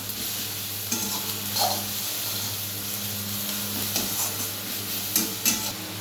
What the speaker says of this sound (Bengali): এই যে এবার একটু মশলাটাকে ফ্রাই করে নেব